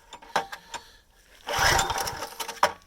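A wood splitter's small engine is being pulled to start, with several short cranking bursts followed by a sputtering, louder catch that runs briefly and dies, heard up close.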